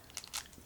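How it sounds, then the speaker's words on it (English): Biting into a bland, crunchy cookie, two quick crisp crunches close to the mic with faint chewing between them. "this was a bland, tasteless, crunchy cookie"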